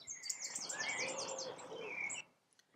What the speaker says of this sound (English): heard the birds sing there